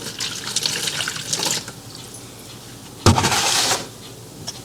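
Kitchen tap water running into a sink while vegetables such as celery are rinsed, a splashing gush that eases to a softer trickle, then a fresh louder burst of flow before fading.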